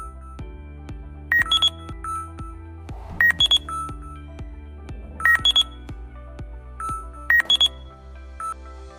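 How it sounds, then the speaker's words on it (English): A ground-imaging 3D metal detector scanner signals a detected void with bursts of sharp electronic beeps, four clusters at regular intervals over a continuous low synthetic tone. "the blue indicator decreases the graph with the sound indicating the presence of void"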